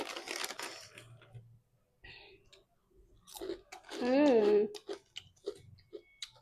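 People eating a crunchy snack together, with close crunching and chewing bursts broken by short pauses, mixed in with people talking.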